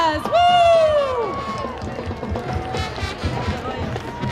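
A parade crowd cheers and shouts, with a voice letting out a rising whoop at the start, over a dense, continuous wash of crowd noise.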